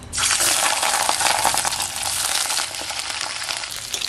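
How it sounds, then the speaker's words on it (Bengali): Pieces of fish, belly cuts first, dropped into hot oil to fry, giving a loud, steady sizzle that begins abruptly and continues without pause, with no talking. "তেল গরম হয়ে গেছে। এবার আমি মাছটা তুলে দিচ্ছি, পেটিটা প্রথমেই দিয়ে দিই।"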